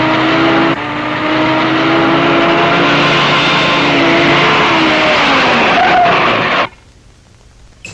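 A car roars loudly past a lorry while overtaking, a sustained close engine rush that swells and holds before cutting off abruptly into near quiet as it stops, in a Tamil film scene.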